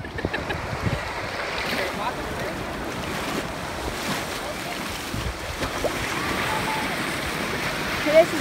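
Ocean surf washes steadily onto a Gulf of Mexico beach, with wind buffeting the microphone throughout and no distinct breaks between waves.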